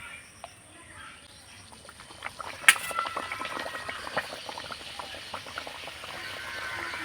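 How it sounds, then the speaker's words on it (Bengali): Jackfruit puri is dropped into medium-hot oil in a kadai and sets off a close, lively bubbling and crackling that builds after a sharp splash and keeps fizzing with scattered pops, with no talking. "এবার আমি তেলের মধ্যে ছেড়ে দেব।"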